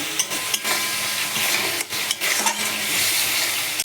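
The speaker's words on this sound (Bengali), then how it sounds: "আদা বাটা দিতে ভুলে গেছিলাম, এখন একটু দিয়ে দিলাম, দিয়ে আদাটাও গ্যাস সঙ্গে কষিয়ে নেব" Spice paste with added ginger paste sautés in a pan for a paneer dish, a continuous near sizzle broken by repeated spatula scrapes and light metal knocks, with no one talking.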